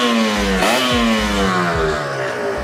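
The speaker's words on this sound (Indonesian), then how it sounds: "knalpot Taiga ini ternyata silencer pengaruh banget ke suara gitu" A Kawasaki Ninja R motorcycle's aftermarket exhaust with silencer revs up and down repeatedly, its throaty tone rising and dropping in pitch, loud and close with no talking.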